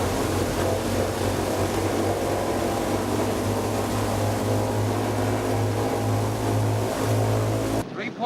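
Multi-engine propeller drone of a B-17 bomber on a three-point takeoff roll, loud and steady with a strong low hum throughout, cutting off abruptly near the end.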